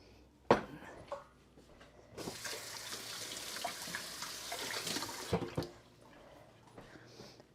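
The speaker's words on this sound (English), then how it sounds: "Wash my hands" A tap runs for about three seconds while hands are washed under it, a soft steady rush framed by a few clinks and knocks at a quiet kitchen sink.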